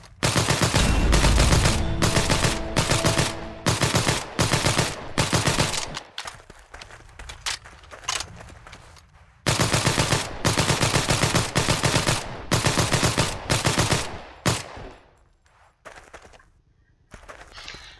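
M3 Grease Gun submachine gun firing in Heroes & Generals, loud sustained bursts of rapid automatic fire broken by short pauses and a reload break midway.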